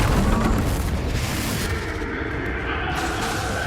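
A Confringo spell blasts in Hogwarts Legacy, a loud dense booming explosion with a heavy rumbling tail that fills the whole moment, rolling on steadily without pauses.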